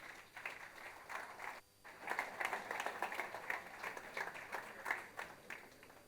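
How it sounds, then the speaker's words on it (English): Audience at a business conference applauding as a panel comes on stage, a faint, somewhat distant patter of clapping that pauses briefly, then swells again and continues. "Give them a warm round of applause."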